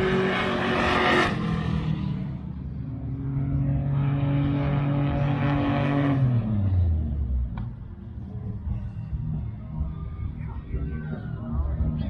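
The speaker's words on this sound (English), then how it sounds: "but oh, there's a car" A car drives past at a hot rod gathering, its engine rumble swelling loud and broad, then dropping in pitch and fading as it moves away, with faint background noise continuing after.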